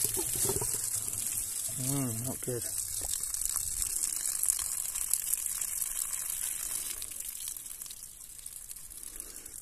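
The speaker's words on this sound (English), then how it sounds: "that's some lovely rusty water coming out" Rusty water gushes out of a loosened, unscrewed fitting on a wood stove pipe, a steady close hiss of pouring liquid that runs throughout while someone briefly speaks.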